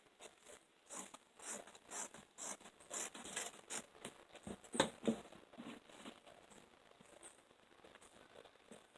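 Scissors snipping through dress fabric to cut it into two short sleeves, a quiet close series of irregular crisp cuts and rustles, with no talking.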